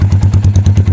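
A Yamaha MX King 150cc motorcycle engine catching on the starter and running, a loud, close, rapid thumping beat for about a second.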